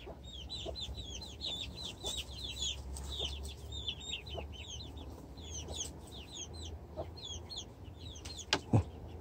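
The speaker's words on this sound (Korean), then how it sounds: "알을 품고 있는 암탉인데" A brooding hen sitting on eggs clucks in soft, rapid, repeated low murmurs, close and fairly quiet over faint background noise, with a couple of sharper knocks near the end.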